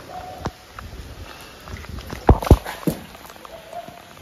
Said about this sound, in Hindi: बारिश की हल्की की बूंद हो रही है यार